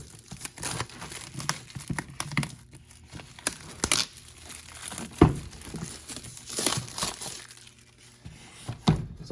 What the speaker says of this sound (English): So let's go ahead and cut the heat shrink here.